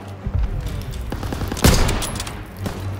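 Gunfire in a Call of Duty WWII firefight comes in a short burst of sharp bangs, with one heavy loud blast at the midpoint and rattling shots around it.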